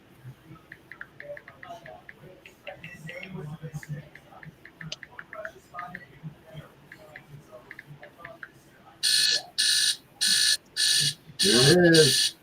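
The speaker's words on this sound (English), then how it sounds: "sounded like one of them old bedside alarm clock radios" An old bedside alarm clock radio rings near the end in four evenly spaced loud electronic bursts followed by one longer tone, after quiet shuffling, soft murmuring voices and small handling noises.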